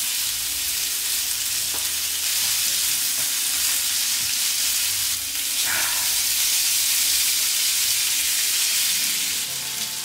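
A thick salmon steak sizzles and fries steadily in a hot pan, with a loud continuous crackle and a few soft clinks as it is handled, and no talking.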